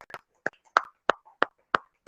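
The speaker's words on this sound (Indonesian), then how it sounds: "Oke, tepuk tangan." A middle-school art class standing during a break claps in unison, about seven sharp, evenly spaced claps in a quick steady rhythm, fairly quiet and with no talking.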